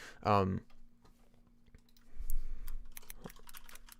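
Keyboard typing with added Opera GX browser key sounds comes as scattered clicks and taps, fairly quiet and close, after a brief burst of voice.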